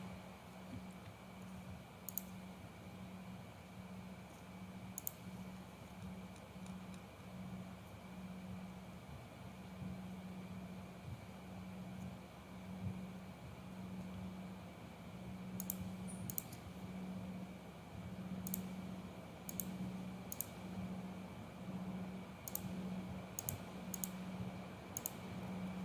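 Sharp mouse clicks sound as start is pressed in computer software, scattered single and clustered clicks over a steady low electrical hum, close and fairly quiet, with no speech.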